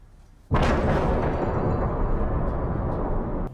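A sudden loud explosion in a film bursts in after a quiet moment, then a sustained deep rumbling roar holds for about three seconds before easing slightly.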